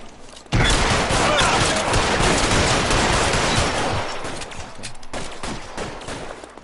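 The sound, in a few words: shotgun gunfire in the video game L.A. Noire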